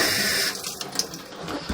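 Water runs steadily from a tap or hose during a sewer scope inspection of a property's lateral line, a continuous hiss of moderate loudness that fades slightly after the first half second, with no talking.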